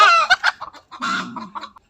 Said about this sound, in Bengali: ওই যে দেখেন ডিম পাড়ছে মুরগিতে